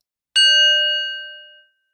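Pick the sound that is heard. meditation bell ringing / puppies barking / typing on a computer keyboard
meditation bell ringing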